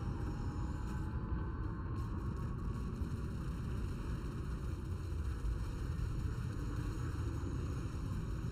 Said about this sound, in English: Afterburners maxing engines.